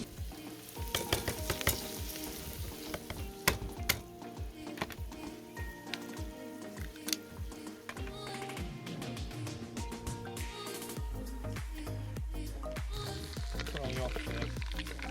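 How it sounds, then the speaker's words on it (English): Lobster shells frying in butter in a pan at a remote island campsite, sizzling and crackling loudly and close, with frequent clatters and scrapes of stirring and an intense, steady hiss toward the end. "Frying off the shell there to get all the flavour."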